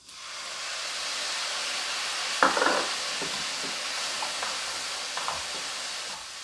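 Garlic stir-fried with soy sauce in a pan for Korean myulchi bokkeum, with a steady close sizzle and hiss and several scraping, clattering strokes of a spatula.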